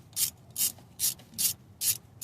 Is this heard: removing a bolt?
yes